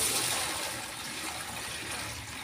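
Water is poured from a container into a plastic basin set out for pet ducks, a steady, fairly loud splashing gush that runs continuously and tapers slightly, with no voices.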